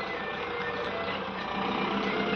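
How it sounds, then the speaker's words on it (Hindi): Truck reversing into a yard to load sacks of paddy, its engine idling and rumbling with a steady warning beep tone, close and continuous. "अब गाड़ी को अंदर घुसा रहे हैं"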